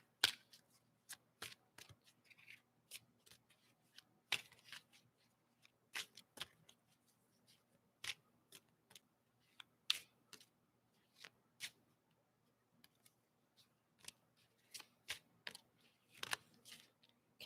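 A crystal oracle card deck is shuffled by hand in a quiet room, giving repeated soft riffling clicks and snaps in irregular bursts, close and faint with no talking.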